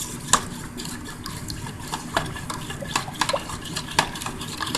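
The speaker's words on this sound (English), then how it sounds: "you just stir until the milk powder all melted in the hot water" A spoon stirs milk powder into hot sugar water for an egg tart filling. It keeps clinking against the container over the soft swish of liquid, with a few sharper taps.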